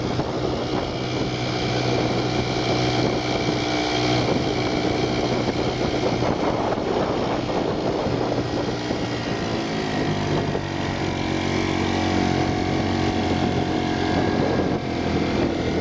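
A 1940 Bendix Eclipse TMD antique twin outboard motor running on a boat, a loud, steady, close engine drone that holds an even pitch throughout without pause.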